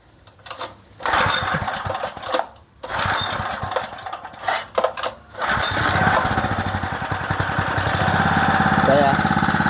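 A Honda GX small engine running on LPG gas starts after a few rough pulls and then settles into a steady, loud idle with a fast putter, up close, with brief talk near the start.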